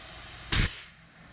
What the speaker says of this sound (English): So first blow into it